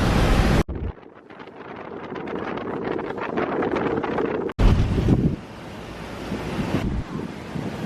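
Strong squall winds buffet a sailboat in rough seas with 40-plus knot gusts, roaring wind noise and crashing surf that surge, cut out abruptly, then return loud and close.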